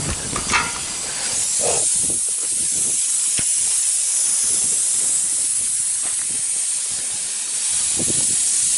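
A steady, loud hiss of air leaking from a bus brake system runs continuously from start to finish, with a few faint clanks and knocks underneath.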